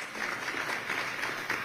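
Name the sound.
audience applause for debate candidates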